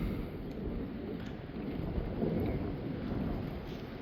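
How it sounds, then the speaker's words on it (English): A thunderstorm with rain outside a house under renovation, a steady broad wash of rain and wind-like rumble with low thunder swelling faintly, no talking. "Oh, deck's first rain and thunderstorm."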